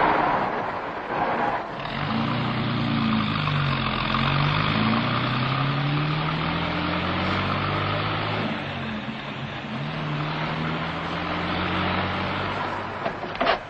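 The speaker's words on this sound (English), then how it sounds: "Put it in reverse and back around that big tree." A car engine idling and revving low as the vehicle reverses around a big tree, a steady close motor drone running through the whole stretch with slight pitch rises and falls.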